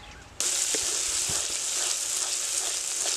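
A paste of ground poppy seed and green chili, salted, hits hot oil for doi pabda and breaks into a sudden loud, steady hiss and sizzle that carries on without a break, with faint clinks and no talk.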